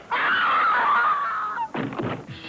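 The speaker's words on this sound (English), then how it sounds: "If you don't get out of here right now, I'm gonna scream." A woman screams in a 1985 TV commercial, one long loud sustained shriek followed by shorter breathy cries, close and alone.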